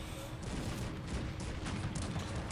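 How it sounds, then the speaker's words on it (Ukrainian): Continuous rumbling cannon fire and booms from the video game Cossacks 3 blend into a dense, loud barrage, with repeated bursts layered over a constant low roar. "Гармати мої настрілюють, ну просто нищать його військо просто нереально"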